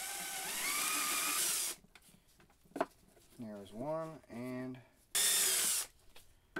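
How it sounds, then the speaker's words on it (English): A power drill with a quarter-inch bit whines loudly in two bursts while drilling holes for 37mm reloading rounds, at the start and again near the end, with brief speech in between. "I'm using a 1/4 inch drill bit."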